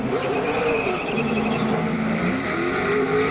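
A NASCAR race car at the 2003 GFS Marketplace 400, its engine a loud, sustained drone with rising and falling pitch as it runs nearby, filling the clip without a break.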